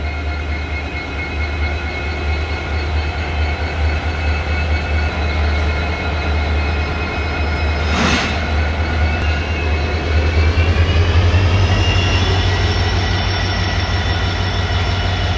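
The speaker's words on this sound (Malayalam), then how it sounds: "ഈ ഡീസൽ എൻജിൻ വെച്ചുള്ള ഓടുന്ന ട്രെയിൻ ശരിക്കും ഭയങ്കര റെയറാണ്" A diesel passenger train with LHB coaches rumbles past steadily in India with a deep engine drone, rattling wagons and a brief high squeal midway, loud and close throughout.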